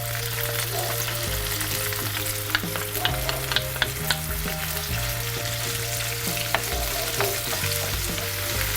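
Shrimp and garlic sizzle steadily in a hot pan, a continuous close frying hiss punctuated by scattered clicks and pops as the pieces are stirred, with a low steady hum underneath.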